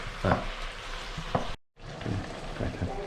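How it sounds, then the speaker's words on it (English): Mushrooms sauteing in a pan, a faint continuous sizzle with occasional soft stirring taps, briefly cut by a moment of silence, heard close and quiet with no talking. "sauteing the mushrooms"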